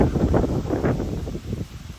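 Gusty wind blows outdoors near the Wabash Cannonball Bridge, a loud low rumble buffeting the microphone in uneven surges that ease off toward the end.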